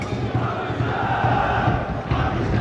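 Football fans from Kahramanmaraş Spor and Kırıkkale Spor chant together in the stadium stands, a dense continuous crowd roar with rhythmic voices carrying across the ground.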